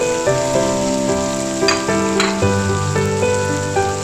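Oyster sauce hits a hot wok of curry paste, long beans and fish balls, giving a steady close sizzle with a bright burst midway, under sustained tonal music with no talking.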